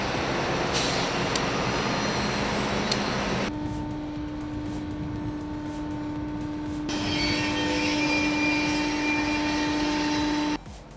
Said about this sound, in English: A GE engine moves the Jordan spreader, which uses its massive wings to clear the right-of-way.